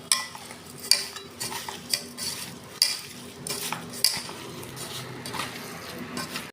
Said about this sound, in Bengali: 2 চামচ গুঁড়ো চিনি দিয়ে দিলাম, এলাচ গুঁড়ো দিয়ে দিলাম, যেটা আমি ভালো করে মেখে নেব।